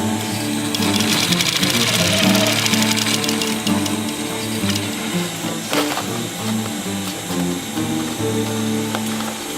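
Sewing machine stitching canvas for a roll-up bag, a loud continuous rapid mechanical whir and clatter close by, running steadily throughout.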